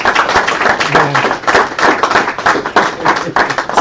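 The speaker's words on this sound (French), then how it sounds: "Ces applaudissements sont pour Thérèse." A roomful of listeners at a Catholic retreat talk in Lisieux applauds, sharp dense hand claps filling the room in an even, sustained burst, close and loud.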